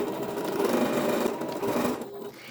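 A sewing machine stitches two pinned fabric panels of a thrifted blouse into a looped circle, giving a steady, close, continuous whir that stops briefly near the end.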